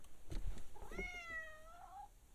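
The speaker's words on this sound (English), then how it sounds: "this guy's cat keeps meowing" A cat meows once, a drawn-out rising then falling cry, fairly close, with faint soft rustling just before it.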